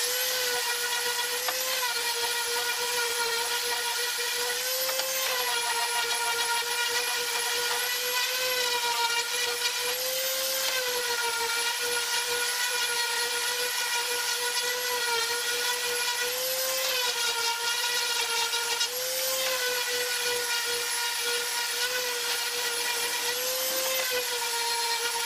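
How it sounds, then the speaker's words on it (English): Power sander running over pallet wood boards for a herringbone coffee table, a loud continuous high whirring drone with slight pitch dips as pressure shifts, steady throughout and with no voices. "So let's get the sander out and then let's dye some of these."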